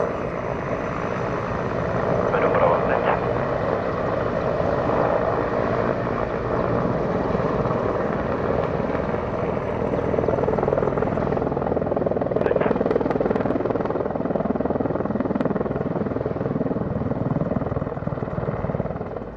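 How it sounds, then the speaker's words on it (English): An Mi-35 Hind military helicopter flying overhead at an air show, a loud, steady rotor and turbine roar sustained throughout with faint background noise, no talk. "Meantime, as the Hind patrols overhead, in comes the Hip."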